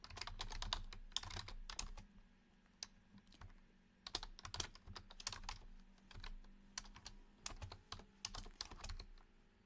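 Rapid, irregular bursts of keystrokes on a computer keyboard, close and quiet, coming in clusters separated by short pauses over a faint steady hum.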